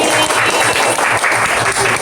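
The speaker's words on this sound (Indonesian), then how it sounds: "Nah, tepuk tangan untuk kelompok teh manis ini." A classroom group claps for the team that presented iced sweet tea, a dense, loud burst of many hands clapping that runs steadily for the whole two seconds.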